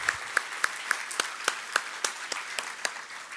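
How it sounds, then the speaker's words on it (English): A ceremony audience applauds a professor, broad clapping noise punctuated by sharp, regularly spaced louder claps from one nearby person, fairly soft overall and with no speech. "So we should give her applause for that."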